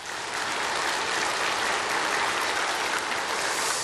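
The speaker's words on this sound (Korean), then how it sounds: "자, 일단 박수 좀 한번 쳐봐. 박수." Sustained applause from a church congregation during a sermon, dense and steady at an even level for about four seconds, with no voices over it.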